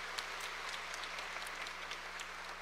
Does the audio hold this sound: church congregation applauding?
yes